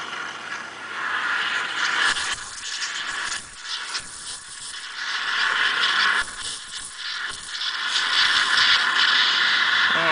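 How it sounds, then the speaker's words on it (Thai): Espresso machine steam wand frothing milk into thick hot foam, a loud continuous hiss with gurgling, sputtering surges as air is drawn in, steady throughout with no talk. "ก็เดี๋ยวสตรีมนมก่อน"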